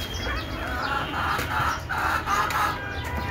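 Desi chickens cluck and call close by in a rural backyard, several short bursts overlapping in a busy, moderately loud stretch with steady background noise.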